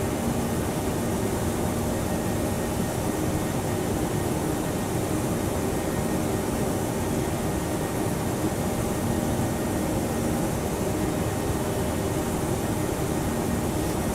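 An airliner's engines hold a steady, broadband roar at climb power on an American Airlines flight from Miami to Havana in Prepar3d, a constant drone with no talk.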